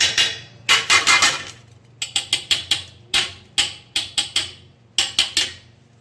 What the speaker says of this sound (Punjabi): ਹੁਣ ਆਪਾਂ ਇਹਨੂੰ ਵੀ ਚਾਹ ਪੁੰਨੀ ਨੂੰ ਇਸੇ ਤਰੀਕੇ ਨਾਲ ਹੀ ਝਾੜ ਦਾਂਗੇ